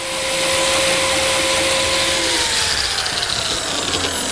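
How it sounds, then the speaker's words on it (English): Biscuit joiner cutting slots for number 0 biscuits in walnut miter joints, a loud, close motor whine holding steady, then a slight dip as the blade bites into the wood. "To reinforce the miter joints, I'm cutting slots for these number 0 biscuits."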